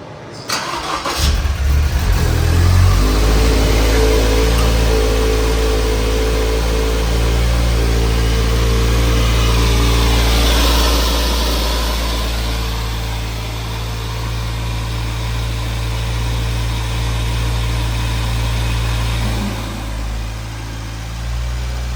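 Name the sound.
Toyota GR86 / Subaru BRZ engine starting with HKS turbo kit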